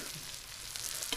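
Chicken frying on a hot clay roof tile outdoors in a village setting, a soft steady sizzle with faint crackles, brief and alone.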